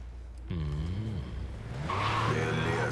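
Car engine revving and tires skidding in the video game Cyberpunk 2077, a rising engine whine with a wavering pitch followed by a louder sustained screech, close and prominent.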